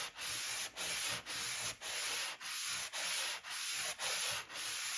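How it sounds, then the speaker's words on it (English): A small sanding block rubs back and forth across an old AFX Giant Raceway HO slot car track, nine even, rhythmic scraping strokes close up with brief pauses between them. "I take one of these little sanding blocks here, and I just rub it across like that"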